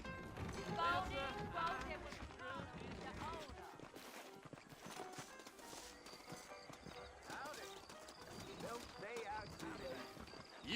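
Rhythmic clip-clop of horse hooves in a video game with an occasional whinny, running under almost constant talking voices.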